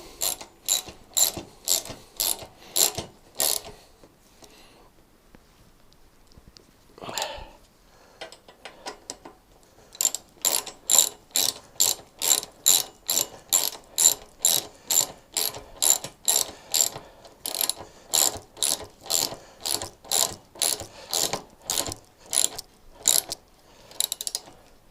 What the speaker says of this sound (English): getting them all tightened up.